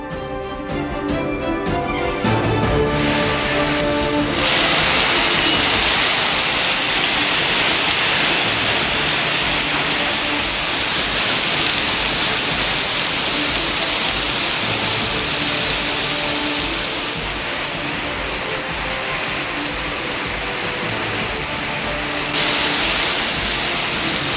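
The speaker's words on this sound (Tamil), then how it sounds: "திருவாரூர் மாவட்டத்தில் தொடர் கனமழை." Heavy continuous rain pours down in a dense, loud, unbroken roar that holds steady throughout, with faint musical tones at the very start.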